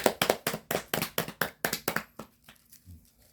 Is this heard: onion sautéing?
no